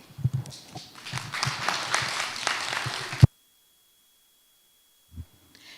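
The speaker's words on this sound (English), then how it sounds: "We will give her one hearty clap" An audience at a national nutrition symposium claps for a presenter, a burst of moderate applause that stops abruptly after about three seconds, followed by near silence and a brief thump.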